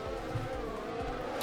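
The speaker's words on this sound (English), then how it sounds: "a good thing about the replays is actually how realistic the cars sound" An F1 car from the F1 2020 racing game roars steadily through a replay, its engine note continuous and fairly loud with small pitch shifts as it passes, no voices over it.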